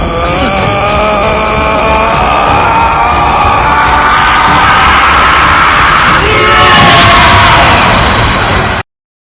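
Vegeta from Dragon Ball lets out a long, loud, sustained scream of rage that swells in intensity toward the end, harsh and strained, filling the whole stretch without any talk.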